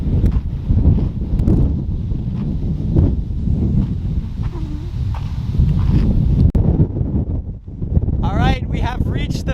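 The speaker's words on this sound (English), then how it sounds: "it is very, very windy" Strong desert wind at a valley viewpoint in Saguaro National Park buffets the microphone as a steady, loud roar and rumble for the whole stretch, with a few faint high chirps near the end.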